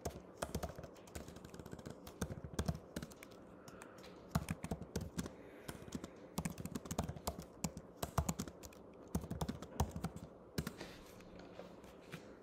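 Keys on a computer keyboard clatter in fast, uneven bursts of typing, close up and alone, pausing briefly between runs for about twelve seconds.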